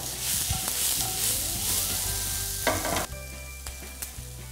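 Onion frying in a pan until translucent, a steady close sizzle with a few stirring clicks and scrapes, no talk.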